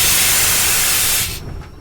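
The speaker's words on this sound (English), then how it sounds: "he had to let off steam" A steam engine letting off steam in a loud, continuous hiss that holds steady and then cuts off abruptly, leaving a faint tail.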